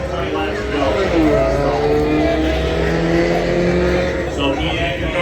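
Race car engines roar and rev together at the green-flag start of the Altima 600 at the Freedom Factory, a loud, dense field of engines rising and falling under a commentator's voice.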